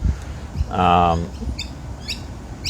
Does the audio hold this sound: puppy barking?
no